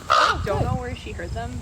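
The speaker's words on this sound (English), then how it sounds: "crows are part of the corvid family, as are ravens, which, by the way, sound like this." A short, harsh, raven-like caw sounds close by, cut into by a person speaking.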